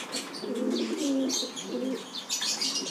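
Soft, low coos from a pigeon sick with snot, an eye infection, repeat in short phrases, close by, with faint higher chirps and rustling around them.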